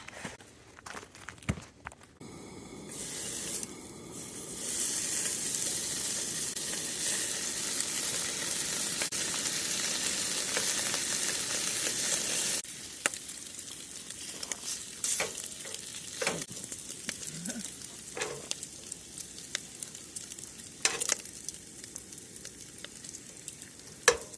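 Butcher Box bacon sizzles loudly and steadily in a pan at a campsite for a long stretch, framed by clunks and scrapes as the pan is handled at the start and by sharp taps and clatter later.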